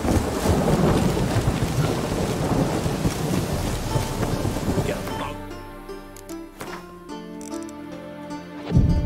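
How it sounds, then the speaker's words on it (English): Steady rain with rolling thunder in The Witcher 3, a dense wash of downpour for about five seconds that thins into scattered drips and low rumbles, with a faint musical score and a final thump. "Rain, I like rain."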